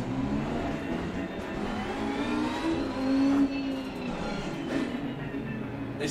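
A Lamborghini engine in the Assetto Corsa racing game hums steadily at speed at the Misano circuit, with a brief swell in the middle, continuous and fairly even throughout.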